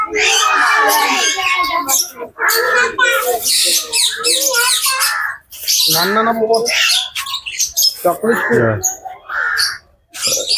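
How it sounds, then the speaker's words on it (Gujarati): Parrots of many sizes and colours at Kankaria zoo in Ahmedabad squawk and screech in loud, overlapping calls, mixed with someone talking nearby. "આ બધા ભાઈ પોપટ છે."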